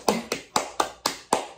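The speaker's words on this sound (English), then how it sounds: "That gets a round of applause" A small group clapping in time, six sharp distinct claps at a steady rhythm, close and fairly loud, with no talking over them.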